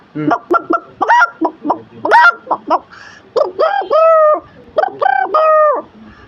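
A boy imitating a chicken with his voice, a loud close series of clucks and squawking calls in rapid, uneven bursts with brief pauses between phrases.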